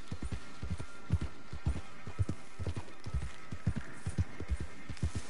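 Horse hooves clip-clop at a steady walking rhythm in the Red Dead Redemption 2 video game, a close series of soft, regular hoofbeats over a constant low background hum.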